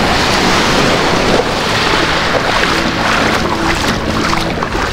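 A boat engine test-run out on the Pacific, its steady rumble blended with loud wind buffeting and surf washing continuously around the hull.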